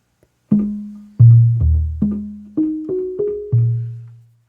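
A Yamaha TG77/SY77 FM synthesizer patch plays eight notes in a simple melody, each with a sharp plucked attack and smooth decaying tail, clean and close.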